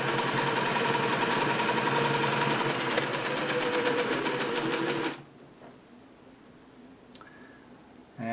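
A Singer 600E sewing machine runs a straight stitch in a steady, rapid mechanical whir for about five seconds, then stops abruptly, leaving quiet room tone with a faint click.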